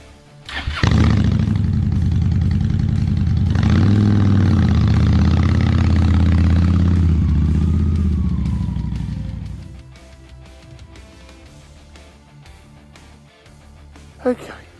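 A 2008 Honda Shadow 750 motorcycle engine starts and runs at a loud, steady rumble for several seconds, then fades into the distance as the bike rides away.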